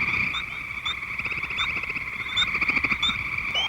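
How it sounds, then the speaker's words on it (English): A dense chorus of high, piping spring peeper frog chirps rings out continuously from a pond, many calls overlapping in a steady shrill drone. "These are spring peepers, chirping their familiar song like a chorus of tiny bagpipes."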